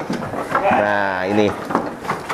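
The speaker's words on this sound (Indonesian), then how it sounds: "Jenisnya adalah domba Garut. Hewan endemik di Jawa Barat." A Garut sheep, a breed native to West Java, lets out one loud, drawn-out bleat close by on an Indonesian sheep farm, with brief talking and farm noise around it.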